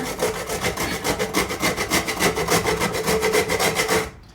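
Whole nutmeg grated in a hand grinder for a chicken hotpot: steady, rhythmic rasping strokes, close and fairly loud, about ten per second-scale cycle for four seconds before stopping abruptly.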